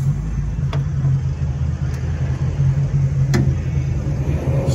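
A 1951 Ford Victoria car pulls around a parking lot, its engine giving a steady, close, low rumble with a few faint clicks and no talk.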